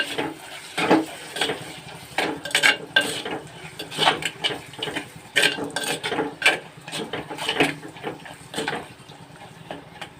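Stirring in a clay pot as chili powder goes into a cucumber-tomato curry, with repeated scraping and clinking strokes of a spoon over a soft sizzle, close and steady with no talk.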